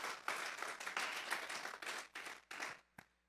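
Applause during a church sermon, a congregation clapping in loud bursts that come and go and then fade out, with a few last scattered claps at the end.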